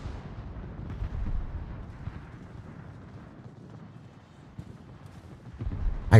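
Low, rumbling booms and muffled impacts from torpedo hits on ships in the naval battle game World of Warships, rolling continuously and building to a louder burst at the end.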